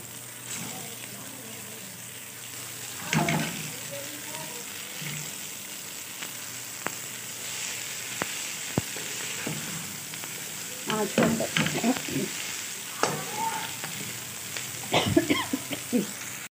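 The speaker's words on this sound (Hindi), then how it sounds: "अब इसको मैंने 1 मिनट ही फ्राई किया है लहसुन के अंदर" Chicken and garlic fry in oil, sizzling steadily in a pan with occasional stirring clatter and scraping, growing busier and louder toward the end.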